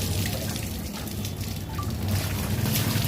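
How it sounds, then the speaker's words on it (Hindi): Water poured over the body during ghusl, a steady close splashing and trickling wash of moderate loudness that runs on without a break and without any voices. "पूरे बदन पे आपको पानी बहाना है"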